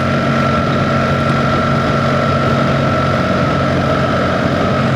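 BMW R1300 GSA motorcycle engine running steadily while riding in the Brecon Beacons, a loud continuous drone with constant low rumble and wind, no speech.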